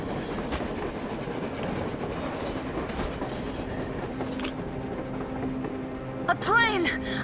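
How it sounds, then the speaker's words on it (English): Train running on the surface in the Metro Exodus video game, rumbling rail noise with rhythmic clatter and a brief wheel squeal near the end. "A train! A damn train on the surface!"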